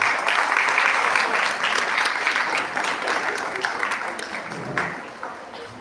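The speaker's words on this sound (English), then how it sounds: "I request you all to please welcome the guests with a huge round of applause." A college audience breaks into a big round of applause welcoming the chief guest, dense crowd clapping that holds steady before tapering slightly near the end, with faint voices mixed in.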